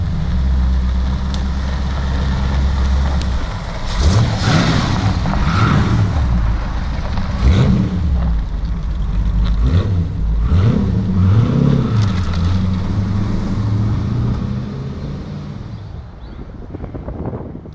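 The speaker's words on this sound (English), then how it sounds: "let's take this lovely little AK Cobra for a drive." An AK Sportcars Cobra replica sports car out on a drive, its engine droning loudly and rising and falling through repeated revs and gear changes, with heavy wind rush over the microphone.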